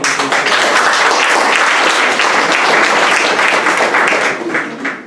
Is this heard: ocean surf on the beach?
no